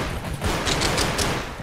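Rapid bursts of Tec-9 fire in a Roblox Gun Game match crackle as a dense run of close, loud shots lasting just over a second, with no talking.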